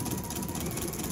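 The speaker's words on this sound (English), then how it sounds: "All right, and here we go. It's doing the stitching." An embroidery machine stitching a quilt held in its hoop gives off a dense, steady mechanical whir with fast rhythmic needle clatter, close and constant, with no voices.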